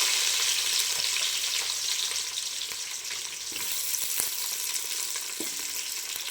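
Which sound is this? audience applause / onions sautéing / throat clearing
onions sautéing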